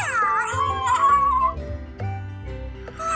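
WowWee Fingerlings panda toy gives high, wavering electronic mewing and whimpering hunger cries, close and continuous for a few seconds, sounding much like a cat.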